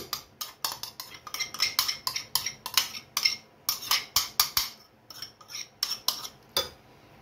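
Hand-cut beef tartare being mixed with chopped garnish in a bowl, producing rapid, rhythmic clicks and taps of a metal utensil against the dish. The strokes come in quick close bursts, with no voices.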